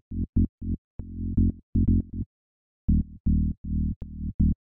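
Lo-fi house bass synth plays a clean, punchy riff of short and sustained notes following a chord progression, with brief gaps between phrases and a longer pause midway; no voices.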